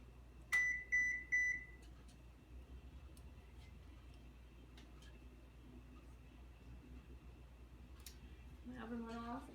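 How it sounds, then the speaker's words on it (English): A kitchen oven timer beeps in three quick, fairly loud electronic bursts near the start, then the room goes quiet apart from faint background hum and a few small clicks. "My oven went off."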